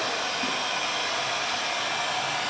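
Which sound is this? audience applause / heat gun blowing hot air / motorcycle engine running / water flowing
heat gun blowing hot air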